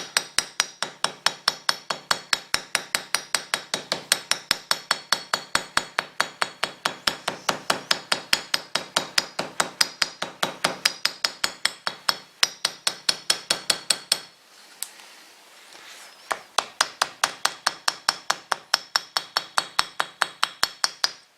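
A hammer taps gently and rapidly around the outer edge of the barrel of a British Seagull outboard engine, a fast steady run of light metallic knocks with one short pause midway.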